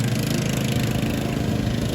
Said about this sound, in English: mowing in the background